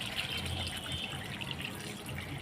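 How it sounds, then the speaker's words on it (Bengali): Water pours steadily into a pan of pomfret fish curry with potatoes, making a continuous close splashing hiss that holds at an even level throughout. "এখন আমি জল দিয়ে দেবো"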